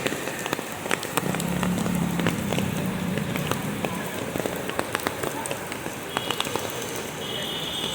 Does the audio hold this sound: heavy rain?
yes